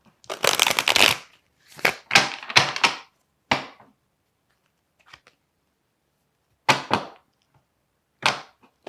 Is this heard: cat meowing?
no